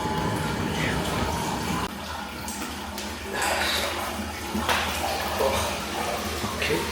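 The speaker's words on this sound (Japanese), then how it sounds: "加水します。" Water running into an in-room hot spring bath at a ryokan in Yunokami Onsen, Fukushima, a continuous close rush of filling water that briefly dips, then surges again.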